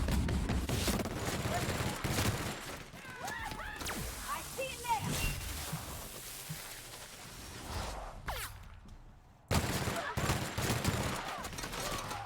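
Sustained rapid gunfire from a big gun in the video game Outer Worlds, dense overlapping bursts cutting out briefly near the end before another loud volley resumes.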